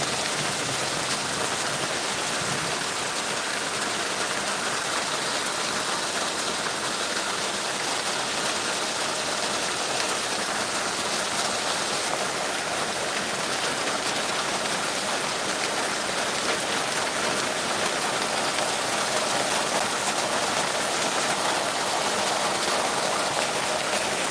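Heavy rain pours onto a village lake in Paharpur, a dense, unbroken hiss of drops striking water that stays loud and even throughout, with no voices.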